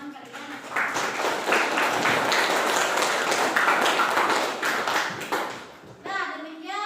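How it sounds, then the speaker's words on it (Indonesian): A classroom of students applauding a classmate, dense steady clapping that holds for several seconds, then fades briefly before a short burst resumes, with faint voices mixed in. "Nah, kita berikan aplaus untuk teman kalian."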